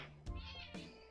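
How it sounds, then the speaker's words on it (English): A pet cat gives two close, clear meows in quick succession, loud and alone with no talking over them. "I have a kitty."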